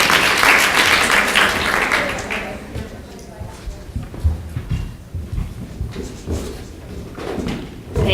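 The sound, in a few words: audience applause welcoming speaker to stage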